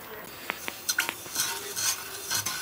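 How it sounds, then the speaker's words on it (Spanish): A spoon stirs orange and sugar syrup in a pot over low heat, making a few light scraping and clinking knocks against the pot amid soft bubbling. "Hay que dejarlo a fuego lento y sin dejar de mover."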